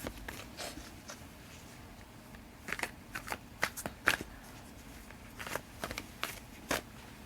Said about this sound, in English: So now that all the cards are shuffled